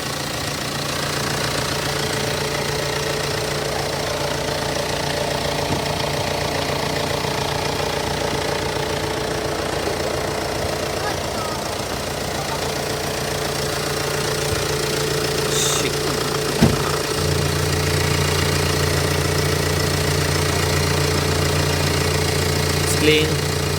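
A 2008 Hyundai Santa Fe MLX 2.2 diesel with automatic transmission idles steadily, giving a continuous low hum with a faint diesel knock throughout. A few brief clicks and a slight change in tone come near the end, and no one speaks.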